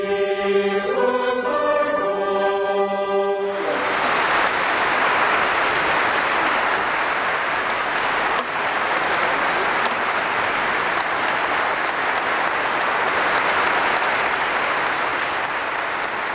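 An audience applauds a Christmas choir performance. Dense, loud clapping starts suddenly right after the choir's final sung chord and continues evenly for over twelve seconds.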